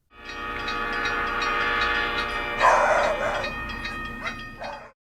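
A recorded train passes by steadily, its horn and whistle tones blaring over rumbling wheels and clatter, swelling midway and then cutting off abruptly at the end, with no talking.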